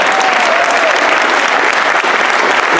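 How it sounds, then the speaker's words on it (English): A school auditorium audience at a live high school concert claps loudly and steadily, a full, close burst of applause with a faint whistle near the start and no talking. "give him a round of applause."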